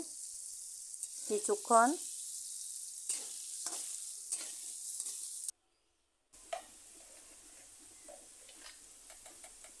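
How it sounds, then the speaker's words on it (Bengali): Potatoes fry in a pan with no salt or turmeric added yet, giving a steady hiss and crackle of oil. A brief voice speaks near the start, and a short silent cut falls midway. "প্রথমে লবণ হলুদ ছাড়া ভেজে নিচ্ছি"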